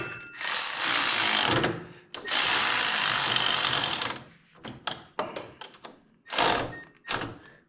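A power drill snugs bolts on a snowblower during a friction wheel replacement, two long close whirring runs followed by a series of short, sharp bursts as each bolt is driven tight.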